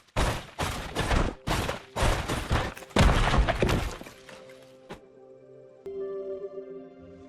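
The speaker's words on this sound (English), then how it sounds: "We will destroy 3 blocks of the high foundation in the middle of each side like this." Blocks of a high foundation are smashed in Lego Fortnite, a rapid series of about eight loud crunching breaks and thuds, then quieter game music with a ringing tone.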